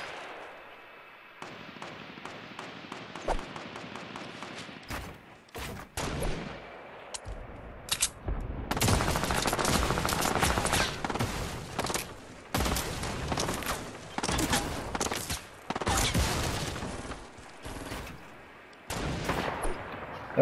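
Bursts of Fortnite gunfire crackle in rapid volleys, loud and dense through the middle, broken by short gaps and scattered single shots, with little talk.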